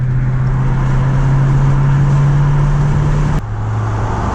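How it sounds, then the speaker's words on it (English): A Dodge Scat Pack car drives past with a loud, steady low engine drone that holds through the pass, then drops in pitch as the car moves away. "Your car sounds good,"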